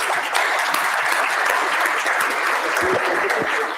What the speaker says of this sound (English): So a round of applause for our panelists here.